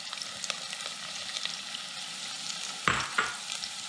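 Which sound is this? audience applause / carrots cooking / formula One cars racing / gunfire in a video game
carrots cooking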